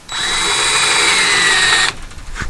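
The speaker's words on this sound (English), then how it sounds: "I have a Forstner bit, which will drill a flat bottom hole." Close and loud, a power drill spins a Forstner bit into wood on a rotten cargo trailer door in one steady whining run of nearly two seconds before stopping.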